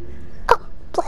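A short sneeze from a character in the Hogwarts Legacy video game, quick and fairly close: a sharp burst, a pause, then a second burst, over a low steady game hum.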